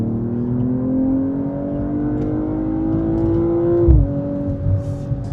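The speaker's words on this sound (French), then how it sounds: "Je trouve que le bruit de chez BM est quand même incroyable." BMW M240i xDrive engine revving: a loud, rising engine tone climbing steadily for about four seconds, then dropping sharply with a thump as revs fall back to a lower idle-like hum.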